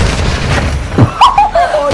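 A flashbang grenade goes off in a video game, a loud booming burst followed by a lingering ringing tone, heard close with game sounds underneath.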